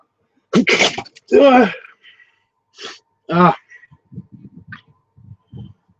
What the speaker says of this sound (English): Surprise sneezes happen.